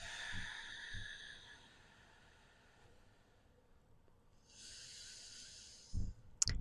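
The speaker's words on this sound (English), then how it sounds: "Take some nice deep breaths here." Slow, deep breathing during a yoga exercise, a long soft airy inhale and then, after a pause, a steady exhale, faint and close, ending with a brief rustle.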